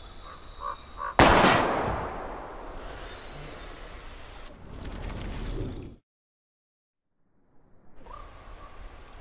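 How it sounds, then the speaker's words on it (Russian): A sudden loud blast from a shot tank exploding in the video game Life is Strange erupts and rumbles away over a few seconds, followed by a second rush of noise, then abrupt silence. "Посмотрим, что будет, если попадешь в бак. Отойди. Сейчас будет бум."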